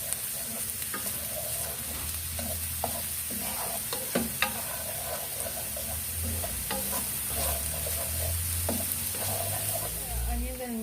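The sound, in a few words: garlic and onion frying in oil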